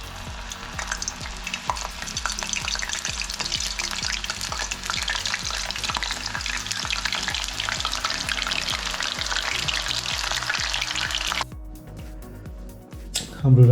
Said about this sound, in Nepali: र जुन राजखानीको आउटर पार्ट छ यसलाई चाहिँ मैले थोरै नुन, ब्ल्याक पेपर, मैदा हालेर चाहिँ यसलाई म डिप फ्राई गर्छु